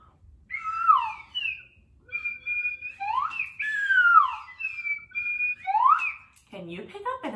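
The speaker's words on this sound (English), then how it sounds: "I'm gonna blow my whistle. That's how we know we're getting started." A person makes sliding, warbling whistle tones to start a kids yoga class, several rising and falling notes in a row, clear and close, followed by a brief spoken word at the end.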